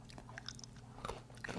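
Homemade hard candy cracks and crunches between the teeth in a few quiet, close bites, followed by soft chewing, with no talking.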